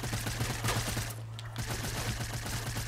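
Rapid bursts of suppressed or burst-fire SMG gunfire in a video game, loud, dense overlapping shots repeating steadily for the full three seconds with only a brief thinning near the middle.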